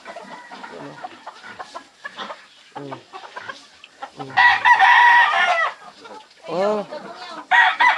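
Chickens at a farmyard, including a hen, cluck and crow in bursts amid people talking, with a loud crowing-like call near the middle and sharper calls toward the end.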